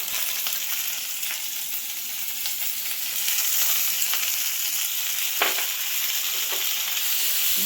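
Onion paste fries in hot oil for Bengali katla fish kalia, a close, steady sizzle with occasional stirring scrapes and small pops, no voices over it.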